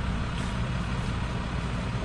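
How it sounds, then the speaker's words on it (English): A bucket truck's engine rumbles steadily out on a residential street after a tree fall, a continuous low drone with no break and no voices. "We got the bucket truck."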